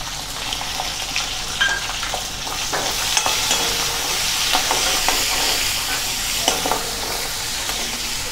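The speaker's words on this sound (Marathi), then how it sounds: "इथे आपलं तेल गरम झालं आहे, आपण त्यामध्ये मोहरी टाकूया। त्याचबरोबर थोडे जिरे, लगेच कांदा" Mustard seeds, cumin and onion sizzling loudly in hot oil for masala bhindi, a dense crackling hiss with scattered pops and stirring scrapes throughout, close and without talk.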